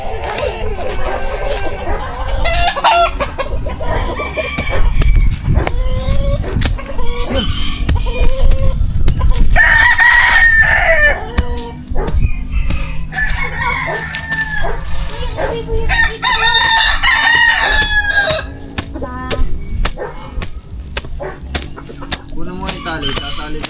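Chickens and roosters in a Filipino poultry pen, with repeated loud rooster crows and scattered clucking throughout, while people talk nearby over the birds.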